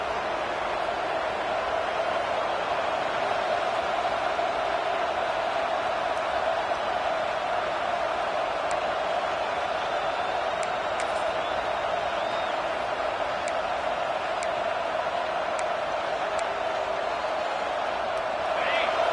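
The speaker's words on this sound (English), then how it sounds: "Listen to the crowd energy here in the early going." Football stadium crowd at Ohio State vs Notre Dame, a steady, dense roar of cheering that holds loud and continuous throughout, with faint scattered whistles and shouts within the broad crowd noise.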